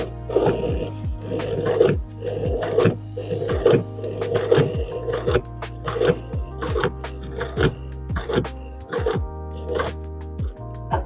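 A manual sewing machine stitches through eight layers of leather with pink thread, making a steady, rhythmic series of loud mechanical clunks and whirs, about one cycle per second, close up and without talk.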